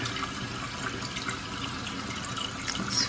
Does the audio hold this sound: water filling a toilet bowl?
yes